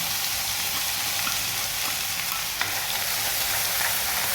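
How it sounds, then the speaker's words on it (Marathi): Ground masala paste for a mixed vegetable curry fries in oil with a dense, continuous hiss-like sizzle, close and even throughout, with one faint utensil tap and no voices. "छान आपल्याला तेल सुटेपर्यंत हे जो मसाला आहे तो फ्राय करून घ्यायचा आहे"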